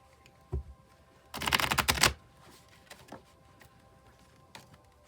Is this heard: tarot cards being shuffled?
yes